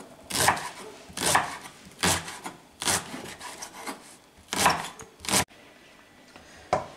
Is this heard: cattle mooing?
no